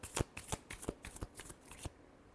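Tarot cards shuffled by hand: a brisk series of about eight crisp, papery slaps and flicks in an uneven rhythm, close and fairly quiet, stopping abruptly near the end.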